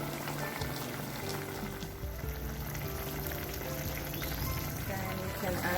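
Jamaican stewed beef with seasoning simmers in a pot, a soft continuous bubbling and low sizzle close by, with a faint voice underneath at moments.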